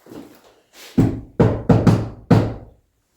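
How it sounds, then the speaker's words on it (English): Loud, close knocks on a door during a paranormal investigation at The Gill House: a faint tap, then five heavy blows in an uneven rhythm with no voices. "it's trying to put its energy to knock on the door"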